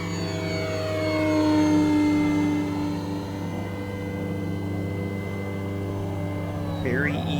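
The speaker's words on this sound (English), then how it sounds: "The airplane's very easy to handle at slow speeds, so stall work, short takeoffs and landings," An FMS Maule 1500mm PNP RC model airplane flies overhead with a steady electric motor whine that swells and fades slightly, its harmonic drone continuous throughout and rising in pitch near the end.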